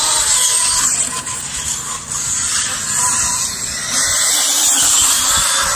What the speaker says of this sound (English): he got a little drift action going on